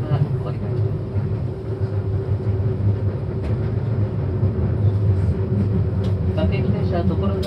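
A Seibu Ikebukuro Line Red Arrow Classic train runs between Hanno and Tokorozawa, a steady low rumble and hum heard from inside the carriage with faint occasional clicks.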